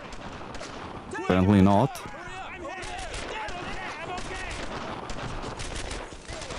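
Gunfire in the World War II shooter game Brothers in Arms: Earned in Blood, scattered shots and bursts popping under steady talking, with a brief loud tonal blast partway through.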